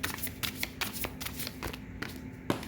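Tarot cards riffled and shuffled by hand in close, crisp bursts of papery flutter and soft slaps, repeating in quick irregular rhythm with no talk.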